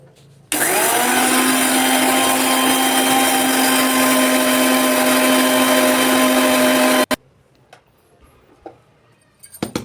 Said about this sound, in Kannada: ಮಿಕ್ಸಿ ಜಾರ್ನಲ್ಲಿ ಹಾಕ್ಕೊಂಡು ಇದನ್ನು ನುಣ್ಣಗೆ ಪೌಡ್ರ್ ಮಾಡಿಕೊಂಡು ಬರೋಣ